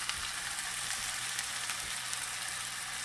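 Gardein beefless sliders sizzling in a pan, a constant close frying hiss with faint scattered pops running evenly throughout, no talking.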